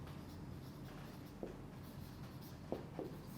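Writing by hand during a biology lecture, very faint, with a few soft scratchy strokes over a low steady background hum and no speech.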